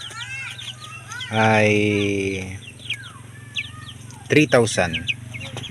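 Chickens about 45 days old cluck and squawk close by. One loud drawn-out call stands out, among scattered short clucks. Someone speaks briefly over the birds.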